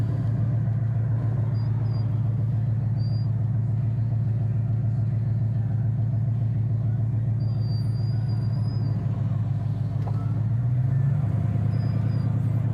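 A 1967 Pontiac GTO engine pulling in first gear, a steady deep rumble that stays loud and close throughout, with a faint high whine at times.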